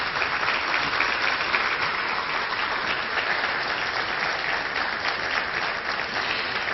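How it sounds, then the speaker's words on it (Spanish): Sustained audience applause at a book presentation event in Lima, Peru, loud and dense with steady clapping throughout, no voices over it. "Vamos a darle una cordial bienvenida con un fuerte aplauso."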